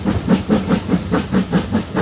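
A steam train on the Bodmin Steam Railway climbs a hill, its loud exhaust chuffing in a steady rhythmic beat of about four puffs per second, close by, with hiss and no talking.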